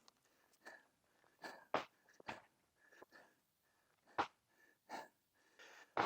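Heavy, ragged breathing right after firing a full magazine at a home-defense shooting drill: close, uneven gasps and wheezy exhales in irregular bursts, with quiet pauses between them and no talking.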